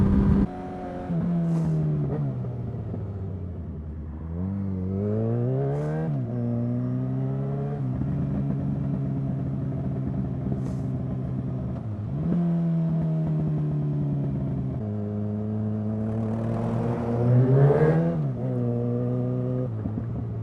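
Car engine repeatedly revving up and bouncing off the rev limiter, the pitch climbing and then stuttering flat several times over a steady idle-to-high drone, close and fairly loud with no talk.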